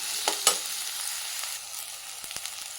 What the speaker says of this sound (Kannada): ಈಗ ಎಣ್ಣೆ ಕಾಯ್ದಿದೆ, ಬಾಳೆಕಾಯಿ ಸ್ವಲ್ಪ ಬೇಯೋ ತನಕ ಈ ಥರ ಫ್ರೈ ಮಾಡ್ಕೊಳ್ಳೋಣ